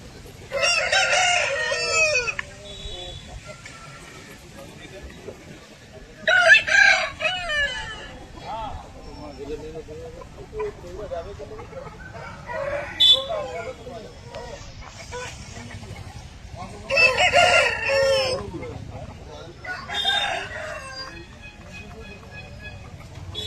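Aseel roosters crow several times in loud bursts, with hens clucking in between and a low background hum throughout.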